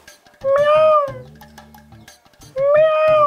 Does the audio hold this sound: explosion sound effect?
no